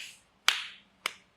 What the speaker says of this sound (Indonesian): Nah, sekarang saya tepuk begini.